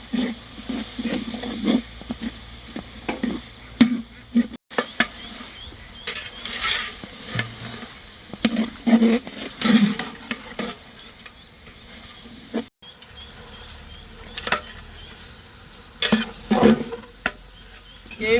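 Onion, garlic and ginger hit hot oil in a large village pot for duck curry, giving a steady crackling sizzle with scraping stirs and irregular bursts, fairly close and continuous without talk.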